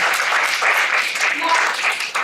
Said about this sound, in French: Faut applaudir dans ce genre de cas.